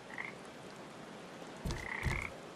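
Frogs croak in the video game Papo & Yo, two short throaty croaks arriving late over a quiet ambient game background, fairly soft and with no speech.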